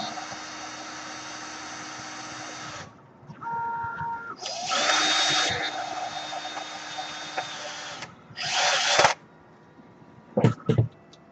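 A power drill with its torque turned down drives screws into a board in several bursts of differing length, pausing between runs, with a couple of short final spurts, close and fairly loud.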